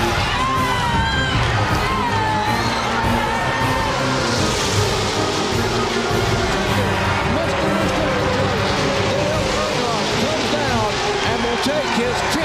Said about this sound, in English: And listen to this crowd of